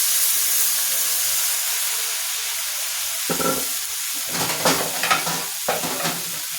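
Chicken curry sizzling in a pan as a little gravy is poured in, a steady hiss of frying with brief bursts of louder bubbling and spattering near the end, close and clear with no talk.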